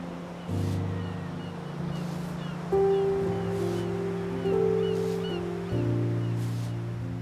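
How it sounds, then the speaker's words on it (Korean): Ocean waves washing over round pebbles arrive as soft, rhythmic swells every second or so, sitting faintly beneath a sustained, mellow tonal drone of calm background music. "동글동글한 자갈을 스쳐 지나가는 파도가 만들어내는 소리는 그 어떤 연주보다 아름답습니다."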